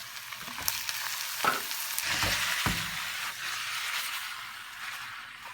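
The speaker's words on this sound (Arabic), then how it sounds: "ثم بعد ذلك نضيف القوانص" Chicken gizzards fry in a pan with a steady close sizzle, broken by several scraping stirs and soft clunks of a utensil against the pan, with no talking.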